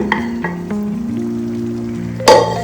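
Beef for biryani sizzles in a pan as it is stirred and mixed, a steady frying hiss with a few light clinks and a louder scrape near the end.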